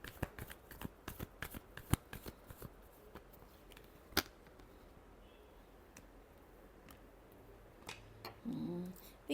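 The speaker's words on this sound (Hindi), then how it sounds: "Last shuffle." Tarot cards are shuffled close by in a quiet room, a rapid series of crisp flicks and riffles with a short softer rustle near the end.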